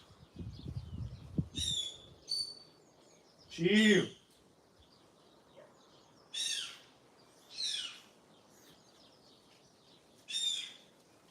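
Pet birds chirping indoors, a series of separate short bright calls spaced a few seconds apart, one louder lower squawk among them, with brief talk and a rustle at the start.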